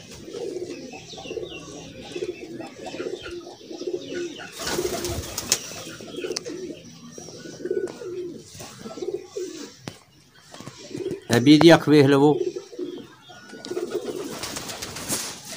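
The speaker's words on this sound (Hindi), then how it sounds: "ए भी सियालकोटी कबूतर है मोती वाला लाल मोती वाला कबूतर है" Sialkoti pigeons coo in soft, repeated low throaty rolls close by, joined by a louder burst of cooing and a brief voice in the middle.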